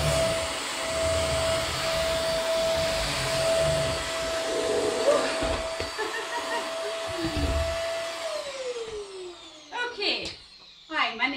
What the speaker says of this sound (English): Switch that wee brush button off and it just sucks up all the crumbs.